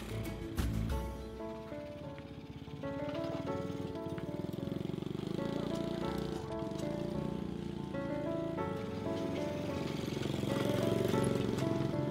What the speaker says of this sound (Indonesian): Ini juga motor bekas yang kubeli dari uang hasil donasi.